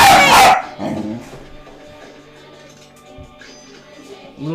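A dog lets out one loud, sharp bark at the start while people play-fight nearby, then follows with quieter yips and whimpers under low voices.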